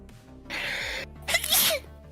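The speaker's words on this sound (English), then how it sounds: "I can never get over your sneezes." Two sneezes in quick succession, the second louder and sharper, each a burst of breathy hiss, with a faint background hum.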